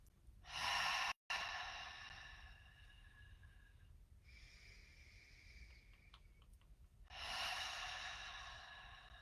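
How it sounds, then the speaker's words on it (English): Deep breaths taken during a yoga class: a loud, close inhale-exhale at the start, a softer breath in the middle, then another strong breath near the end, each a broad airy rush with no talking. "Let's take some deep breaths."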